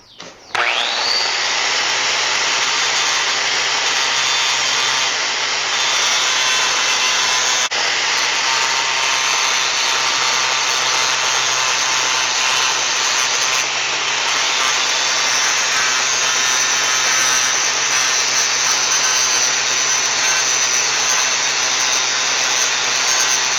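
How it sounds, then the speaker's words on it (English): An angle grinder sanding a bar-steel knife blank produces a loud, unbroken high-pitched abrasive whir that spins up at the start and holds steady for over twenty seconds, with no talk. "What I'm doing here is just sanding it down before I put an edge on it."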